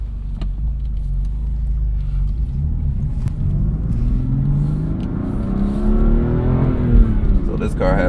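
A BMW M2 CS, rated about 444 horsepower, pulls away with a deep engine rumble that climbs steadily in pitch as it accelerates, loud and close, with a brief burst near the end.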